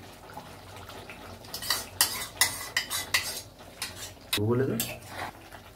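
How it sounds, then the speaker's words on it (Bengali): Yogurt being stirred into chicken curry in a pan: irregular metal spoon clinks and scrapes against the pot, with a brief low voice near the end. "দইটা ভালো করে মিশিয়ে নিলাম এর মধ্যে"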